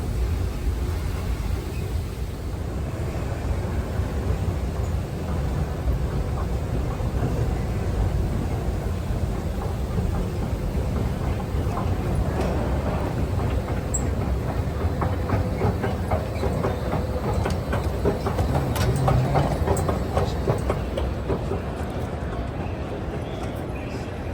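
A train rolling up alongside the platform at New York's Moynihan Train Hall, a steady close rumble and rattle of the carriage with clicking wheel sounds, voices faint underneath.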